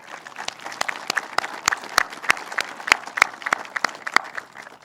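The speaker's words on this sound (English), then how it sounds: "let's give them all another round of applause" A modest audience at a NASCAR incentives bill signing claps, sharp individual hand claps standing out over a thinner, irregular patter, fairly close and lively for about five seconds.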